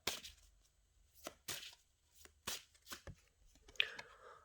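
Oracle cards are shuffled in a series of soft, quick riffling bursts spaced irregularly, fairly faint and close, with no one speaking.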